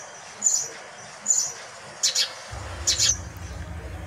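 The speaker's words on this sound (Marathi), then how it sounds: "चिमणी म्हणते चिव चिव" A sparrow gives short, bright chirps in small bursts, about five spaced calls in all, some doubled. They sound fairly close against a quiet background that turns into a low hum near the end.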